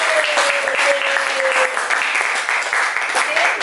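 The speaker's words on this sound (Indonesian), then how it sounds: "Kita apresiasi dengan tepuk tangan lagi. Silakan tepuk tangan." Students clap in a classroom after the final group presentation, with steady, fairly loud applause throughout and a brief voice heard faintly over it.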